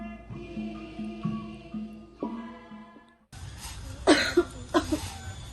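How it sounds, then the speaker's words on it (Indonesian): A woman on a theatre stage gives a few short coughs after a stretch of quieter background sound, the coughs bursting out close and fairly loud near the end. "Ibu hanya batuk biasa saja."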